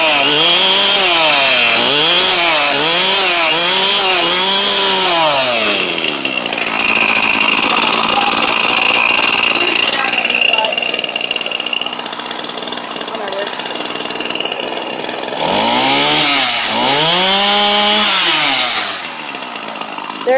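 A gas-powered string trimmer (weed wiper) with no line fitted, just after a cold start, revs up hard twice up close, each burst rising and falling in pitch, with a rougher idle drone in between.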